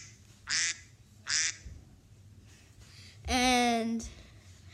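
A duck-quack ringtone sounds off in short nasal bursts: two quick quacks, then a longer drawn-out quack, fairly close, with quiet gaps in between.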